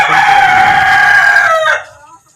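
A single loud, close rooster crow, drawn out for about two seconds before cutting off into quiet.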